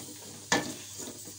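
Vegetables dropped into hot oil for a mixed malai sabzi: a sudden sharp sizzle bursts up and then settles into a softer, ongoing fry with light stirring, quiet and close.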